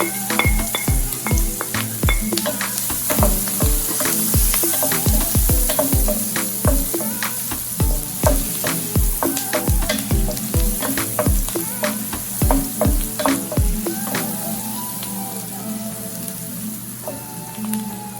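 Onion and garlic frying in a Saladmaster electric skillet, a loud continuous sizzle with frequent sharp crackles and stirring scrapes throughout, close and steady.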